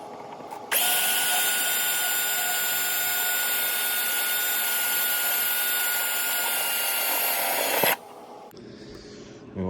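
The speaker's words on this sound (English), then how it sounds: "I'm gonna start drilling a hole here for this" A power drill drilling a hole for an intake air temperature sensor on a 5.7 HEMI engine whines at a steady high pitch for about seven seconds, starting and stopping abruptly, loud and close.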